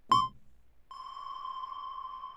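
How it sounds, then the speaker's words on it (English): A short plucked synth note sounds, then after a distinct gap a sustained reverberant tone blooms and hangs, steady and ringing, with no voices. "If I turn up the pre-delay by quite a bit, we get this effect"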